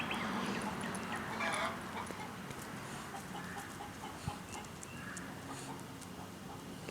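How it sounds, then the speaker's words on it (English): A hen clucks faintly in a garage after laying an egg, a series of soft, repeated clucks heard at a distance under steady background noise, ending in a sudden louder knock. "Oh, I hear a chicken laying an egg in the garage."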